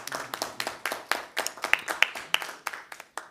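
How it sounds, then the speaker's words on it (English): Small group clapping at a government press conference on agriculture, sparse distinct hand claps in an uneven rhythm, fairly close and moderately quiet. "I think we deserve a round of applause for that."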